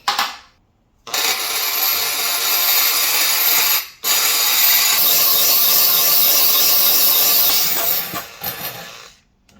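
A drill grinds steadily into ceramic tile in two long bursts separated by a brief pause, with a harsh, gritty high-pitched rasp throughout.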